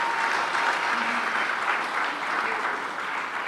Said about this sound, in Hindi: एक बार मैं चाहती हूँ उस पत्रकार के लिए भी ताली होनी चाहिए जरूर